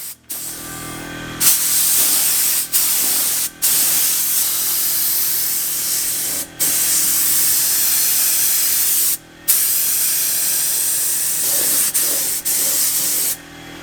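A paint spray gun hisses in steady bursts while laying chalk gray paint on a crashed Porsche 997 Turbo race car, each long spray broken by short pauses of near silence.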